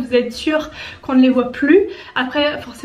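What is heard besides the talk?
No everyday noise stands out behind the speech.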